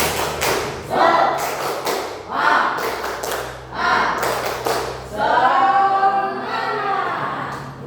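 A classroom group claps a rhythmic cheer in unison, with several rounds of sharp, loud clapping bursts separated by short pauses and voices sounding between them.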